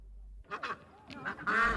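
A few short honking calls from geese, close and fairly quiet, coming in quick bursts.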